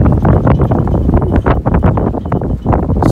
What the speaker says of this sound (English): here comes a good gust of wind